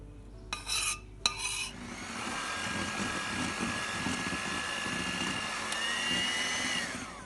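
Two short whirring bursts from an electric mixer blending a chocolate and oil mixture into cake batter, then a steady softer mixing and scraping noise that continues in the bowl.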